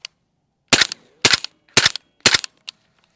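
Four sharp, evenly spaced cracks from a suppressed DPMS Kitty Kat rifle firing 200 grain subsonic rounds, each a short muffled report with a quick tail, followed by a fainter click near the end.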